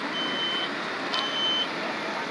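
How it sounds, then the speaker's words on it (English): A smoke alarm going off during a fire department sprinkler system demonstration, sounding as a thin high-pitched electronic beep in two long pulses over steady background noise. "I can hear that smoke alarm going off"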